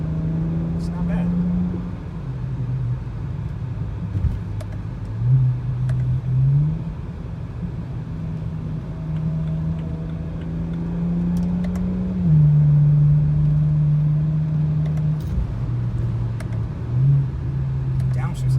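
With its muffler deleted and the stock exhaust flap kept, a BMW E90 335i with the N54 engine drones from inside the cabin, its note dipping and rising through several downshift blips. People talk over the moderate engine hum.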